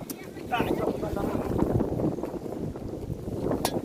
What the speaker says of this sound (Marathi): लय वारा बिरा सुटलाय, मस्तपैकी वारा सुटलाय इकडं